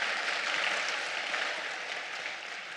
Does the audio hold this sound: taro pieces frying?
no